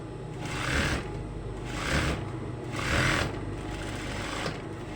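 A sewing machine stitches a reflector strip onto a rider vest, running in three loud, close bursts of rapid whirring with short quieter pauses between them.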